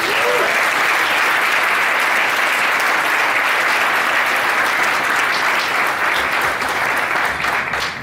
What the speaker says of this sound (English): Can we give this huge program a round of applause?